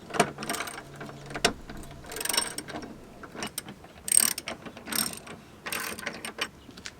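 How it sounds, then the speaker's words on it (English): A 3/8 Torx bit tightens bolts on an aluminum tire carrier being installed on a Jeep JL, heard as bursts of close ratcheting clicks and metallic mechanism noise with short pauses between. "we're going to tighten these bolts up with the 3/8 Torx bit"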